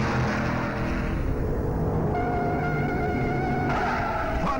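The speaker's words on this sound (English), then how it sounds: "Fondy Flock in Thomas's car spins out at the end of the backstretch." Race cars roar past at speed on the Darlington oval during the 1957 Southern 500 as one car spins out, shifting engine tones layered with skidding tire noise, loud and continuous without talk.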